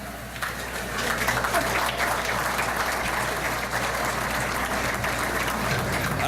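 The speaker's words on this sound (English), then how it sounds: "One more round of applause to every ArtPrize artist in 2013" A crowd at the outdoor ArtPrize 2013 Top 10 finalists unveiling gives a dense, loud round of applause that holds steady for about six seconds, with no talking over it.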